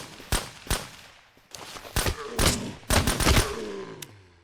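Single-fire gunshots from a weapon in the game SurrounDead, about ten sharp, loud reports that come alone or in quick pairs with short echoing tails.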